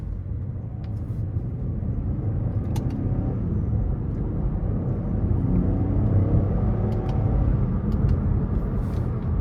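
A 2013 Cadillac XTS Luxury with the 3.6 engine and 80,000 miles, accelerating under manual paddle shifts, heard from inside as a steady low engine and road rumble that swells gently, with a few faint clicks.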